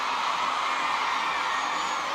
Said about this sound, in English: giving the crowd something to cheer about early on